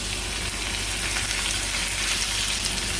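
Goat mince, one kilo, frying in a pan with spices and lightly fried ingredients, giving a loud, close, continuous sizzle and crackle that holds steady throughout with no talk.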